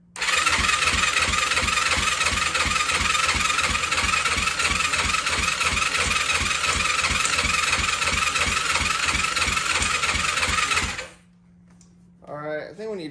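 A Yamaha YFZ450 ATV engine with no compression runs on choke, a loud, close, rapid rhythmic thumping that holds steady for about eleven seconds and then dies. A brief voice follows.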